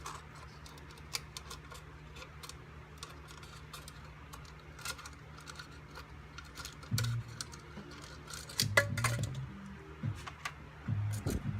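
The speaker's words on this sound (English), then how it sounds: "just cutting up the big cup here, or the bigger cup" Plastic mixing cup being cut up by hand while making a Platsil 71-11 silicone mold, giving faint irregular snips and crackles that grow louder toward the end, with no talk.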